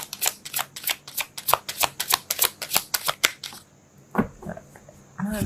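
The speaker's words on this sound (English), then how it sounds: "Can I shuffle?" A deck of tarot cards is shuffled close up in a rapid, steady run of crisp flicks, which stops near the end and leaves a few soft handling sounds.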